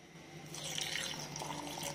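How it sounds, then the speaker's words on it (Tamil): Water is poured into a blender while a banana and oat smoothie is made, a soft steady splashing trickle lasting a couple of seconds, faint and close with no talk. "இப்போ தண்ணி தான் சேர்க்க போகிறோம் அதில் அரைக்கிறதுக்கு"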